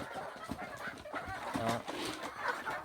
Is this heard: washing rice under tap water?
no